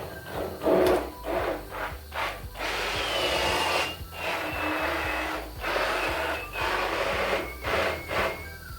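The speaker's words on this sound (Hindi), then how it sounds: "अब ये हैंड बीटर की मदद से मैं इसे अच्छी तरह से ग्राइंड कर लूँगी सब दालों को।" A hand blender grinding cooked lentils and porridge for reesha haleem, a close, rough whirring and churning that surges and pauses in uneven bursts, with no talk.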